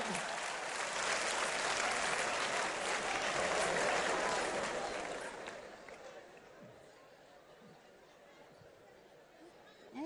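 A comedy show audience applauds loudly with dense clapping and some cheering, which fades after about five seconds into quieter room noise.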